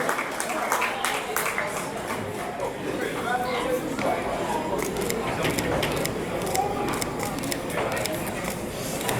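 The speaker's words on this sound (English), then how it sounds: "One more round of applause for them." Dense crowd applause fills a magazine cover reveal event, steady and continuous throughout, with chatter and voices mixed into the clapping.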